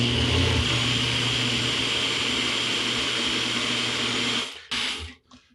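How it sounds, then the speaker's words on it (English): A mini mixer whirs loudly and steadily as it blends tikka masala curry paste, a constant high buzzing motor that cuts out abruptly, briefly restarts, then stops. "we are going to whiz it in the mini mixer"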